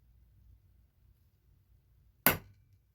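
A single sharp strike of a small hammer on a metal jewelry letter stamp rings out after a quiet stretch of low hum, with a brief ringing decay.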